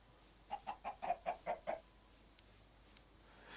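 Chickens in a video game cluck in a quick run of about eight evenly spaced, quiet calls, followed by a couple of faint clicks in a calm, otherwise hushed scene.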